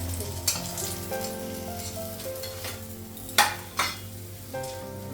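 Fish or onions frying in a pan on a home stove, a continuous close sizzle with a few sharp spatula scrapes and clinks standing out near the end, no voices.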